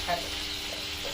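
Chicken frying in mustard oil, a soft continuous sizzle heard close up, with a brief voice near the start.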